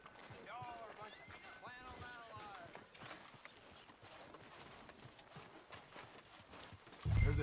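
Horse hooves clip-clop at a steady trot in Red Dead Redemption 2, rhythmic and moderately close, under ongoing character dialogue.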